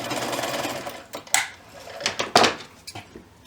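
A sewing machine stitches across backpack straps for a mini backpack keychain, running in a steady whir with a few sharper clicks and bumps of the fabric being handled, close and alone.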